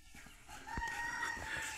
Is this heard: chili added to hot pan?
no